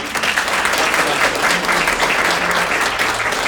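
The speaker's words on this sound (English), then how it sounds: "give Helen Knott a round of applause." Audience at a literary event in a cultural centre applauding, a sustained dense wash of many clapping hands, loud and continuous for several seconds, with no talk.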